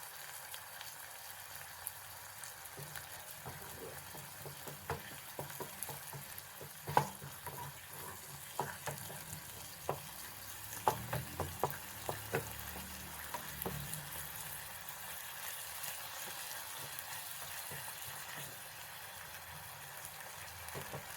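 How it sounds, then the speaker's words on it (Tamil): Grated coconut and ground cardamom sautéing in a pan for Ellai puttu, giving a faint, steady sizzle broken by light scraping and stirring clicks throughout, close up, with no voices. "நல்லா வதக்கட்டும். நல்ல நீர் வற்றி சுருண்டு வரட்டு."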